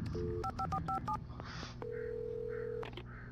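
Telephone keypad tones in the video game Alan Wake: a short burst of several quick dial beeps, then a longer steady tone, over a low ambient hum with faint breathy sounds.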